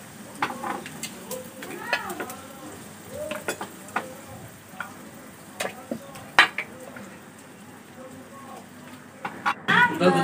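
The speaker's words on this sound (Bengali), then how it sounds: "লুচিগুলো তেলে ছাড়ছে।" Luchi, puffed flatbreads, dropped into hot oil in a home kitchen during a Santoshi puja gathering, sizzling and crackling with clatter of pots and voices nearby.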